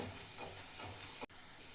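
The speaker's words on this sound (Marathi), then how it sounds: "येसूर पण तेलामध्ये भाजायचा आहे" Spice mix (yesur) roasting in hot oil, a steady close sizzling hiss with faint stirring, cut by a brief dropout near the end.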